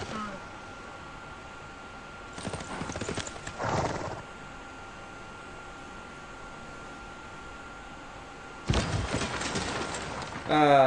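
Horsemen in Civilization VI trot with quick clip-clop hoofbeats and whinnies, heard in short bursts between stretches of quiet game ambience, with a faint low hum throughout.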